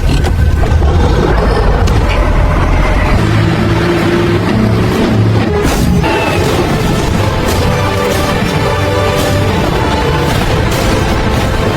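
A tanker truck engine drives hard, a loud, continuous low rumble with rising revs, clattering impacts and bursts of noise layered throughout, with no talk.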